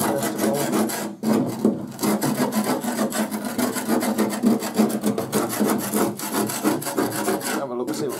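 Rust is scraped off the metal bonnet of a Dynamark ride-on mower: continuous close, harsh rasping strokes with short pauses, and no talking.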